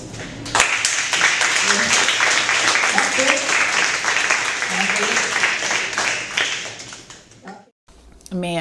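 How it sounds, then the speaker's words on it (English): An audience applauds itself in a sustained burst of clapping that is loud and dense, then fades and stops near the end, with cheering voices mixed in. "So I want you guys to clap for yourselves."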